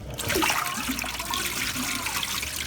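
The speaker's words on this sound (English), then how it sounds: "pouring off the water" Water is poured off washed potatoes, a close, continuous gush and splash that begins sharply and then runs on steadily before easing.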